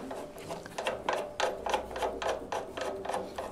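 The die head of a Merax Z1T-R4 electric pipe threader is adjusted by hand, producing a quick run of about a dozen close mechanical ratcheting clicks at a steady pace, with no voices.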